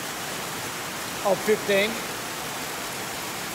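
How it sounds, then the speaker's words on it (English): Tropical downpour at a permaculture farm in the Philippines, a dense, steady hiss of heavy rain that fills the whole clip, with a brief voice speaking over it. "where we've got a tropical downpour happening."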